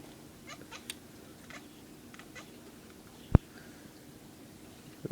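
A pet cat makes faint, scattered angry vocal sounds indoors while trying to reach a mosquito overhead, with short chattering calls and one sharp loud click partway through against a quiet room background.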